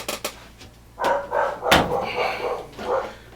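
Several dogs bark indoors in a series of loud, close barks, with a couple of sharp knocks at the start, in a room where a ventless washer-dryer combo is being repaired.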